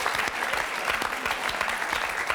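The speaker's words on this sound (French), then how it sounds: "Je m'applaudis parce que..." Studio audience applause on a French TV dating game show, a dense steady patter of many hands clapping close and loud for a couple of seconds.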